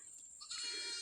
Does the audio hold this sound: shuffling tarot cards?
no